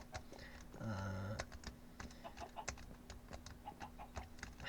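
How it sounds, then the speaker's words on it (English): Faint clucking chickens in a video game, aboard a ship, over a steady low electronic hum, with scattered soft clicks and taps throughout. One brief louder warbling cluck stands out near the start. "Tons of chickens on the Red Queen."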